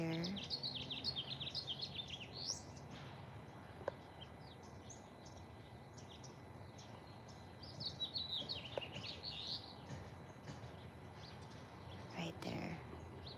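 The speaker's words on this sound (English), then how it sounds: "the sound of birds" Birds sing outdoors in short bursts of high chirps and trills, moderately near, fading in and out over a soft steady background hiss with a few faint knocks.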